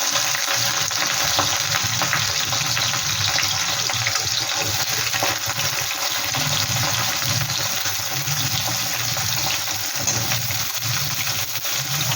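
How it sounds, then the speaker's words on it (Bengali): Chopped onions sizzle and fry in a hot pan of oil for a home-style chicken curry, a dense, even hiss that stays loud and steady throughout with no voices. "পেঁয়াজটা একটু লাল লাল করে ভেজে দিই।"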